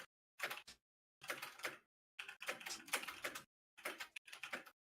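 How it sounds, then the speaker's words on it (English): Loud clacking keystrokes on a computer keyboard, coming in several quick bursts separated by short pauses, close and dry with no voices. "Bob, if you're going to type so loud"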